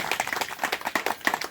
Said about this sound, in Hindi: आप जोरदार तालियों के साथ उनका स्वागत करेंगे